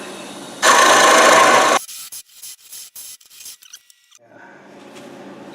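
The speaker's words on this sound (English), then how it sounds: "I like to use this round carbide just to get something close to where I want on the bottom." A round carbide woodturning tool cutting the bottom of a macadamia wood bowl on the lathe: one loud, harsh scraping burst lasting about a second, then softer intermittent scraping and pauses, close by.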